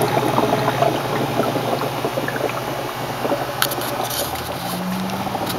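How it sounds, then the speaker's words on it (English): An air pump blows raw air straight into a deep water culture nutrient solution bucket with no air stone, producing a continuous loud, dense bubbling and gurgling throughout. "No air stone needed, just raw air bubbling right into the tank."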